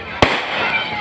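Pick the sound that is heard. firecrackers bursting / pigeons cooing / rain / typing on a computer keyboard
firecrackers bursting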